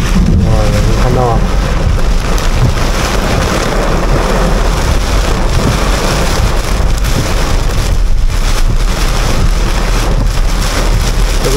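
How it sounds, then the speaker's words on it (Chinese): Heavy rain pours in a violent thunderstorm with strong wind over Kuala Lumpur, a loud, steady wash of downpour and gusts filling the whole stretch, with a brief voice near the start. "起大风下大雨"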